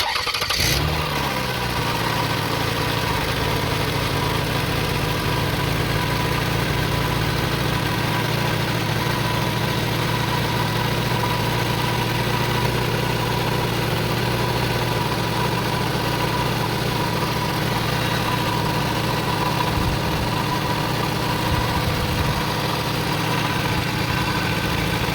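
A car engine cranks over and then idles steadily on test for a power steering leak repair, a loud, even hum with a sharp start at the beginning and no talking over it.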